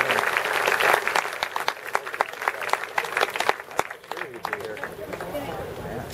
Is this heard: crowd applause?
yes